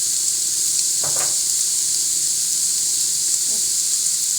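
Green beans fry in a pan with a little chili flakes, giving a steady bright sizzle with a couple of brief clatters as they are stirred, close and loud, with no talk.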